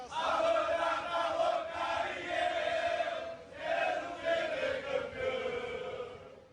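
Grêmio supporters cheer and chant loudly as a big crowd welcomes the team in Belo Horizonte, a dense, continuous roar of massed voices that swells and dips in waves.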